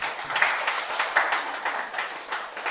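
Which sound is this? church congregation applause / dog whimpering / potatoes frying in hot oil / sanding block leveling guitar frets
church congregation applause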